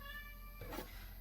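A single short cat meow in a home kitchen during cooking, faint and brief against a quiet background hum, no talking.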